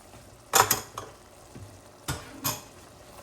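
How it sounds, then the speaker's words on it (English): Goulash with Worcestershire sauce, paprika, oregano and basil being stirred in a pot, a few distinct spoon scrapes and knocks against the pot, close and spaced apart, with no talking. "We'll give that a little stir"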